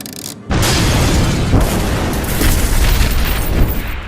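A sudden roaring blast from a kitchen gas explosion by a gas-filled stove kicks in after a brief quiet moment, then keeps going as a loud, sustained rumbling boom with no letup.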